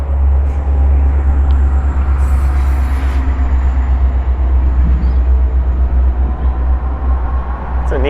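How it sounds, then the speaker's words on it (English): A GO commuter train rolls past near a Toronto ebike route in the Don Valley, a loud, steady low rumble of rail cars with brief higher squeals and wind noise throughout. "There's a GO train."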